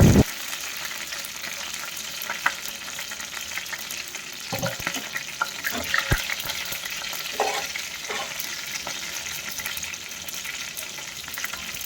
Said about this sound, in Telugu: స్టవ్ మీద ప్యాన్ పెట్టగానే అందులో వాటర్ నిన్నాయి నేను చూసుకోకుండా ఆయిల్ వేసేసాను అందుకే ఇంకా అంతలా సౌండ్ వస్తూ ఉన్నిందనమాట